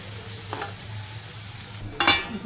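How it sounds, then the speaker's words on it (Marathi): Onion and ground masala paste fry in a pan with a soft continuous sizzle, broken by two brief scraping stirs of a spoon, the second louder and closer. "कांदा परतवून घेतला आता जे वाटण मी तुम्हाला दाखवलं ते वाटण परत याच्यातच परतून घ्यायचं"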